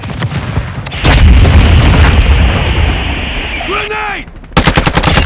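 Heavy gunfire and a booming grenade blast in a military shooter game, loud rapid bursts rolling into a low explosive rumble, with a shouted voice and more shots following.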